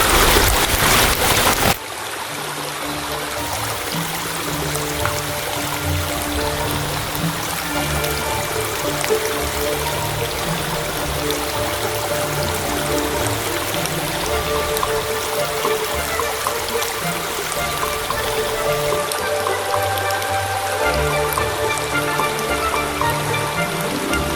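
Rainwater rushes along a brimming Madeira levada amid countless waterfalls, a dense, continuous hiss and splash of flowing water that stays steady throughout after a brief louder burst at the start.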